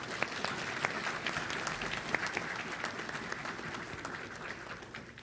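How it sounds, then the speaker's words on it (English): An audience at a MEDEX Northwest graduation ceremony in Kona applauds award recipients, sustained even clapping from a large crowd filling the hall at moderate level. "Please join me in a round of applause for both of our Golden Apple recipients."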